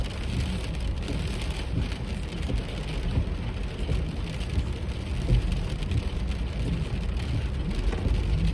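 Steady cold rain falling outside on a dark morning, a dense even hiss of drops on surfaces, fairly loud and continuous with no voices.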